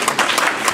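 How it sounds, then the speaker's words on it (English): A brief round of applause from those attending a city council meeting, a dense burst of clapping that fills the moment at close range. "Round of applause."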